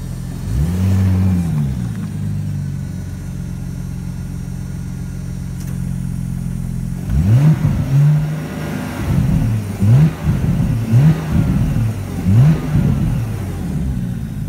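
A Porsche Panamera engine revs repeatedly, first heard muffled from inside the cabin, then louder and clearer through an open door, with a string of sharp rising and falling revs in quick succession.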